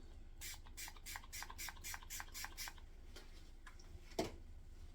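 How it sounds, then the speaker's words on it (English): A spray bottle mists locs with about eight quick hissing bursts in a steady rhythm, followed by a few softer sprays and a small clunk. "I'm gonna go ahead and spray my hair"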